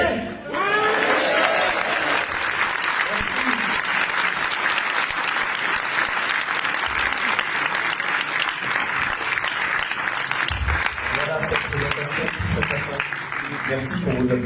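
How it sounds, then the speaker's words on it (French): A large audience applauds steadily and loudly after a project pitch presentation, sustained clapping filling the whole stretch with a slight dip near the end. "Merci pour vos applaudissements."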